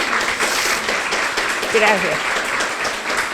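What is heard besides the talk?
audience applause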